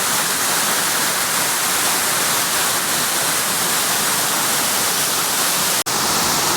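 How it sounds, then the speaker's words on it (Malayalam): Achankallu waterfall near Konnakkad in Vellarikundu taluk, Kasaragod, Kerala, pouring in a steady, dense roar of rushing water that stays close and loud throughout, with no voices and only a brief click near the end. "ഇതാണ് നമ്മുടെ അച്ചൻകല്ല് വെള്ളച്ചാട്ടം"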